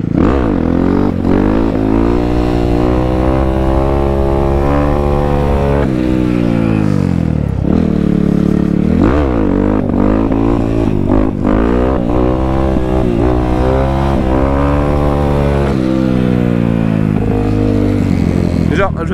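A 16-horsepower motorcycle engine revs hard during wheelie attempts, its loud harmonic drone rising and falling in repeated throttle surges, with a rider's voice heard over it.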